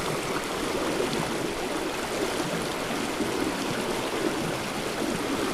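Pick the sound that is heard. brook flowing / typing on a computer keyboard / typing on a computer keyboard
brook flowing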